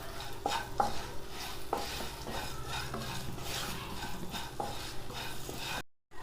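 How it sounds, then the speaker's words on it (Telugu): Green chillies and turmeric frying in a pan for a chilli-tamarind chutney: steady sizzling with repeated scraping stirs and metallic taps of the spatula on the pan, close and clear, ending in a brief silence. "వేసుకొని మంచిగా వేయించుకోవాలి మొత్తం"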